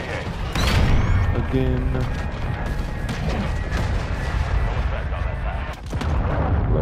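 Missile strike explosions in Call of Duty Modern Warfare II, heavy booming blasts and crashing impacts over continuous battle noise, with a brief spoken word in between.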